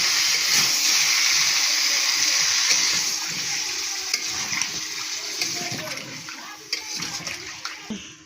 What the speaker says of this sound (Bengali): এর মধ্যে অল্প খানিকটা পানি দিয়ে ভালো করে কষতে হবে